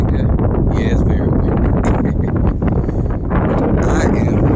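Strong wind blows across open water in Central Florida during a fishing outing, roaring steadily into the microphone with heavy buffeting, while someone talks over it.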